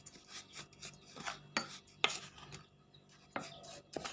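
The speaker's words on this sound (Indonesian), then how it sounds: "Kemudian semuanya ini diaduk hingga tercampur rata." A cocoa powder, flour and salt mixture for a chocolate sponge cake is stirred in a bowl, giving scraping, scratching strokes with a few sharper clinks of the utensil against the bowl. The sound is close and fairly quiet, with no talk.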